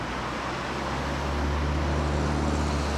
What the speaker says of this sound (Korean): 지금 차가 달리고 있거든요.